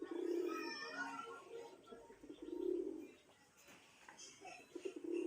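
A desi colouring golla pigeon gives soft, low cooing calls in a few spaced bouts, fairly quiet, with faint chirps and background noise between them.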